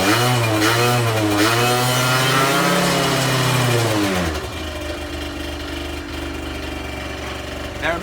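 Speedfight 50cc moped engine running right after a kick-start, revs wavering high on auto choke, then dropping to a lower steady idle, loud and close with no talk.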